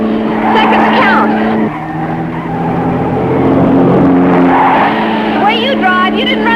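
A 1950s sports car accelerates hard and skids through a curve, its engine roaring loud and close while tires squeal in sustained whines, with voices talking over it.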